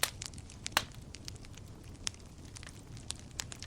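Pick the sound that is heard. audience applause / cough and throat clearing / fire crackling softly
fire crackling softly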